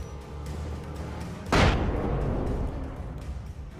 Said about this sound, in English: Let's flashbang these guys.